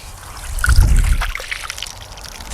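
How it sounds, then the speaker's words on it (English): Water poured down the barrel of a JTS AK12 airsoft rifle gives a brief splashing trickle with a low burst early on, fading into faint dribbling. "I wanted to let water get all down in the barrel."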